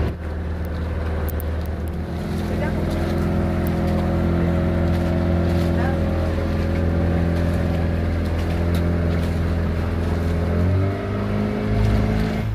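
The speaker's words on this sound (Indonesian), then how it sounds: "Naik perahu dari Gili Trawangan ke Gili Meno itu hanya memakan waktu sekitar 10-15 menitan saja" A boat crossing from Gili Trawangan to Gili Meno, its motor droning loud and steady with a deep hum that shifts pitch slightly near the end, no voices.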